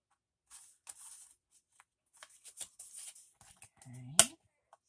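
A glued book page with a napkin on it is folded in half in a quiet room, producing soft paper rustles, taps and one sharp crease, with brief creaks between the handling noises.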